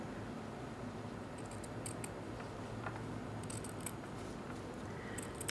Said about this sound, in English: now I'm going to cut back the excess fabric just to neaten it off